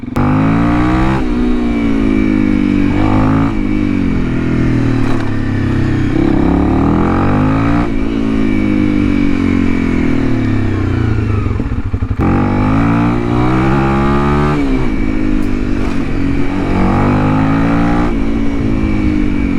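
A Honda CRF 300L motorcycle with an ECU tune rides off, its single-cylinder engine revving up through repeated gear shifts, loud and near for the whole stretch.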